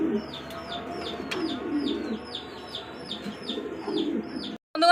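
Pigeons coo repeatedly in a steady rhythm, the soft descending calls close by over a faint background hum, ending with a short break.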